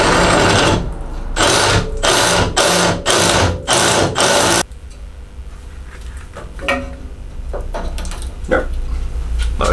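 A 60 mm hole saw cuts during work on a V8 Miata drift car, giving loud rapid pulsing grinding bursts that give way to quieter scattered mechanical clicks and handling noises.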